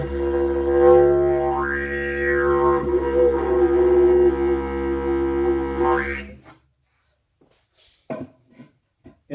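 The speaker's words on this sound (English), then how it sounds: "I have a didgeridoo used by the Aborigines." A bamboo didgeridoo with a wax mouthpiece drones low and steady for about six seconds, its tone swelling and sweeping as the mouth shapes it, then stops; a few faint scattered sounds follow.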